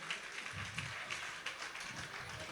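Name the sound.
audience applauding the children's Christmas dance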